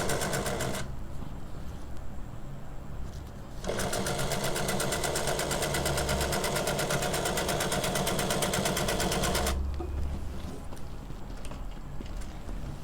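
A sewing machine stitches a zip into a baby frock, running in two bursts, a short one and a long steady rapid run, with quiet pauses between.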